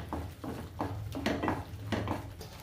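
Spices being stirred into cauliflower in a pan for a gobhi sabzi, with repeated scraping strokes of a spoon against the metal and a soft sizzle underneath, close and moderately loud.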